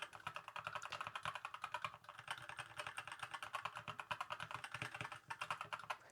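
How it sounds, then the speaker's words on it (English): Steady typing on a keyboard fitted with HyperX Pudding keycaps, a fast run of close, crisp clicking keystrokes with no one talking. "I love typing on these"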